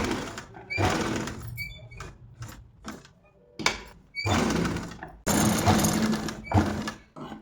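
A sewing machine runs in bursts while stitching a pot neck design onto lining fabric, whirring and clattering close by, broken by pauses, knocks and handling sounds.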